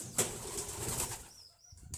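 Close pigeon sounds with a burst of wing flapping near the start, soft cooing and rustling continuing, then a brief quieter pause.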